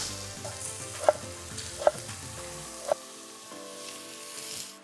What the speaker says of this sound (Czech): Kořenovou zeleninu zarestujeme